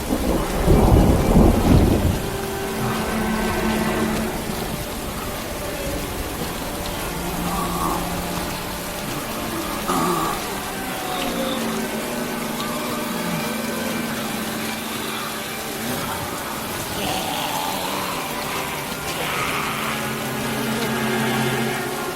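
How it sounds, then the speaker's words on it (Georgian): Heavy rain pours steadily, opening with a loud, deep rumble of thunder in the first couple of seconds before settling into a continuous wash of rainfall on surfaces. "უბრალოდ წვიმაა"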